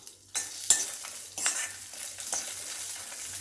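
Garlic and tamarind sautéing in hot oil for mint-tomato chutney, a steady close sizzle broken by several sharp stirring scrapes of a spoon against the pan, no voices.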